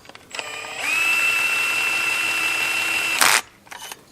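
A 12 volt power tool torques bolts set with Loctite, spinning up to a steady high whine for a few seconds, then ending in a short burst of rattling clatter followed by a couple of faint mechanical clicks.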